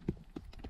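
Horses on a Crimean outing clip-clop along, three soft, unevenly spaced hoof knocks at moderate distance over a quiet background.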